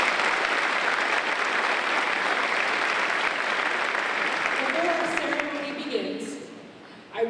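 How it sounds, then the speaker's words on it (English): An audience at a student excellence celebration gives a sustained round of applause, loud and dense for several seconds before tapering off as a voice starts speaking. "Please give them a round of applause."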